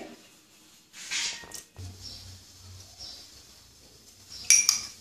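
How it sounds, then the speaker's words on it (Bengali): A metal kadai is set down on a kitchen stove while moong dal halwa is made, giving a few light clinks and a soft thud, followed by a bright metallic clatter near the end. "কড়াই বসিয়ে দিয়েছি"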